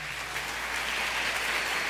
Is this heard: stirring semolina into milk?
no